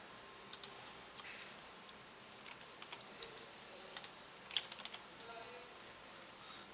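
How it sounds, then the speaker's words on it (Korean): Quiet, scattered clicks and taps from a Ctrl key and mouse being pressed at a computer running Photoshop sound in an irregular rhythm against a faint, hushed room background. "컨트롤 키를 누르면서 여기를 딸깍 선택하는 거예요"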